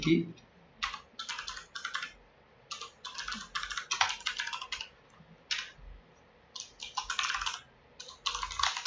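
Bursts of rapid typing on a computer keyboard, clicking keys in short runs separated by brief pauses, close and fairly quiet.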